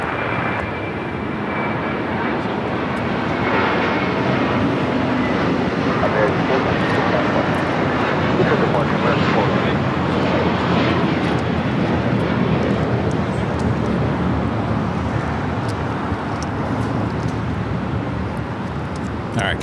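An airliner at Los Angeles International Airport powers up for takeoff, its engines a steady, broad roar filling the whole stretch at moderate distance, with a person talking over it.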